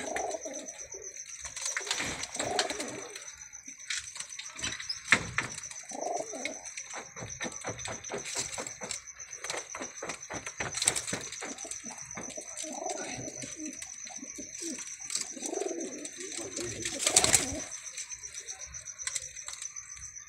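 Pigeons coo repeatedly in a loft of young birds offered for sale, soft rolling calls coming in bursts close by, with occasional light taps and a faint steady tone in the background.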